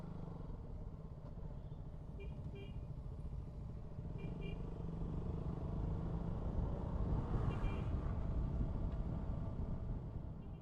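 A KTM Duke 200 motorcycle ridden along a winding hairpin ghat road, a continuous engine drone mixed with strong wind rush that swells slightly midway through the ride.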